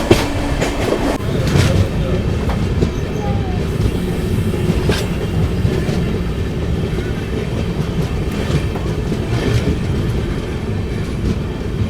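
The Simhadri Express, train 17239 from Guntur to Visakhapatnam, runs on its first trip with LHB coaches near Godavari station: a loud, steady rolling rumble from inside the coach with rhythmic clickety-clack of wheels over rail joints.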